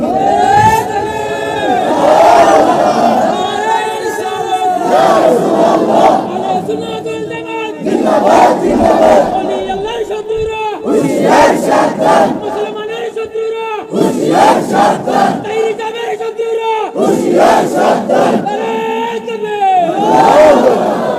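A large crowd at a Bengali religious sermon chants the slogan 'halal' in loud, rhythmic, repeated shouts, with a lead voice calling between the massed responses.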